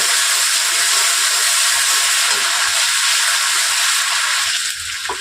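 Hilsa fish fat fries in oil with a loud, unbroken hissing sizzle that holds steady throughout and eases slightly at the end.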